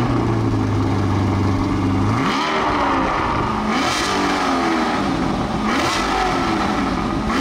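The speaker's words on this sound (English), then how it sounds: "speaking of the exhaust, this car sounds absolutely amazing for a hybrid." A 2024 Chevrolet Corvette E-Ray hybrid all-wheel-drive C8 revving its exhaust: a steady idle rises into a loud sweeping rev, followed by repeated blips of the throttle, close and alone.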